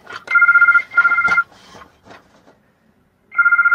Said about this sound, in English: Why does the phone ring when you don't want it to?